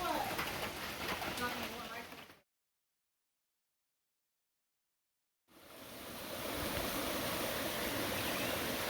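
Steady broadband rushing of a stream running high after a storm, loud and close, broken by a few seconds of dead silence midway, with a voice briefly over the start.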